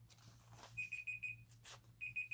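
A timer goes off with sets of short, high electronic beeps in a quick repeating pattern, separated by a pause. The beeps are faint and sit over soft room rustling.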